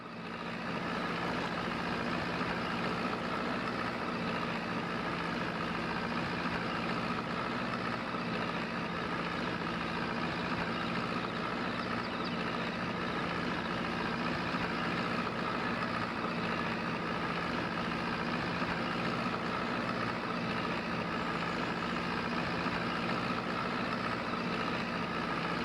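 A small 105-horsepower Ford tractor idles in Farming Simulator 25, a steady low engine drone with an even tone that holds for the whole stretch and no voices.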